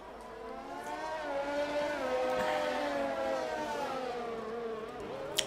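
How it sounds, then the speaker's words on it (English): Race cars drive in a racing video game at the Dutch Grand Prix, several engines whining and shifting pitch together in a steady, fairly loud drone with no talk. "You can just listen to the cars for a second."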